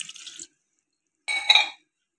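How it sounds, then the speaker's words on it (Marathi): A glass of water is poured onto peas for a samosa filling, heard as two short, close splashing pours separated by a brief silence. "त्यानंतर मी एक ग्लास पाणी टाकते"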